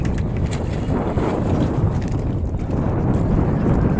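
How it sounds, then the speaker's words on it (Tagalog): Strong wind at a beach buffets the microphone in a constant loud rumble, with no voices over it. "Yan, nalakas na naman ang hangin."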